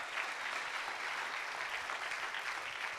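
An audience applauds to welcome a speaker on stage at a North Dakota 1 Million Cups entrepreneur event, a steady dense wash of clapping heard from a moderate distance.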